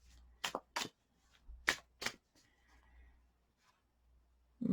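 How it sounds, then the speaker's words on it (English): Tarot cards drawn and flipped from a deck during a reading, giving several quick, close papery slides and snaps in two pairs of strokes, followed by quieter faint handling and a soft thump at the end, with no talking. "let's pull a couple of these cards"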